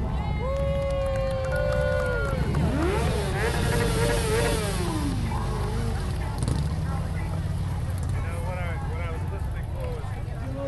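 Motorcycle engines from a motorcycle club riding in a Veterans Day parade in Clarksville rumble steadily in the background while a loudspeaker voice talks over them and a crowd murmurs outdoors.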